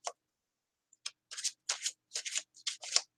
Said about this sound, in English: I'm going to shuffle that again.